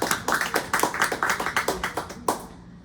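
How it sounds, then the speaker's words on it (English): A small audience at an author talk and book signing claps to welcome the writer Julie Metz, with close, distinct hand claps in a quick irregular rhythm that thin out and stop after about two seconds. "so let's give her a round of applause."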